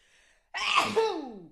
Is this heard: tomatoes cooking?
no